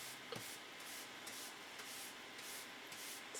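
A firm but soft brush scrubs silicone residue off a dried acrylic paint pour, faint rhythmic rubbing strokes repeating about every half second, quiet and close with no voices.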